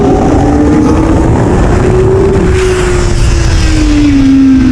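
A Kawasaki ZX4RR motorcycle pulls hard at full throttle in second gear, its high-pitched engine wail climbing steadily in pitch, loud and close throughout with heavy wind rush.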